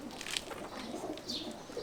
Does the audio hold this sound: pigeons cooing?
yes